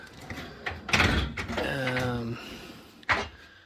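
A garage parts drawer holding springs, electrical pieces and a gas tank for a 2006 CR250 slides open with a sharp clunk and a scraping metal rattle, close by, amid speech.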